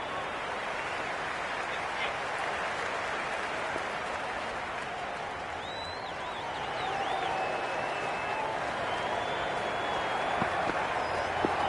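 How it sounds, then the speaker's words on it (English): Stadium crowd in the Cricket 26 video game, a steady broadband roar of applause and cheering that swells slightly toward the end, with whistles rising above the continuous clapping. "It's evident and ever so audible that the crowd is at near bursting point with excitement at today's play."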